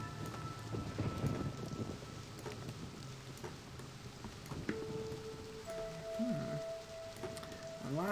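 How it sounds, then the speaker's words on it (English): Heavy rain from a storm lashes the top of a lighthouse among spiky rocks in the video game Myst, a steady dense hiss with rumbling thunder and faint tonal ambience rising near the end. "We see the top of the lighthouse getting pounded by rain."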